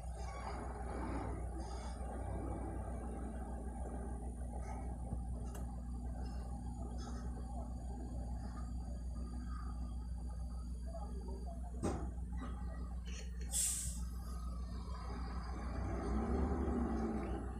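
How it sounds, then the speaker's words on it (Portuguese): Steady low road rumble from a line of trucks on the BR-153 highway in Brazil, heard from inside a moving Scania truck cab, continuous and fairly loud, with a few sharp ticks and clicks. "e não para a fila de caminhão aí"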